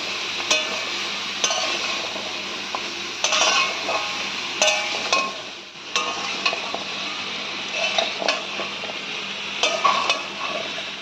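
Vegetables with turmeric and salt being stirred in a pan, a soft sizzle beneath repeated metallic clinks and scrapes of a spoon on the pan in an irregular rhythm, close and with no talking.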